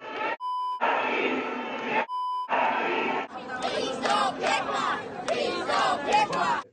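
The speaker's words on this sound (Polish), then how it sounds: "Tłum skandował różne hasła, także pełne wulgaryzmów" A large crowd at a political march chants slogans, including vulgar ones, in loud, rhythmic massed voices. A few electronic beeps come before and between the first chants.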